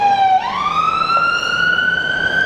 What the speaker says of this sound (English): that's why we got a siren here